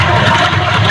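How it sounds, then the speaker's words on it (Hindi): Rainwater pours steadily down into a borewell during a rain-harvesting recharge, a loud continuous rushing gush of falling water, close by and without any talk. "ये बोरिंग है, इसमें पूरा का पूरा पानी नीचे जा रहा है।"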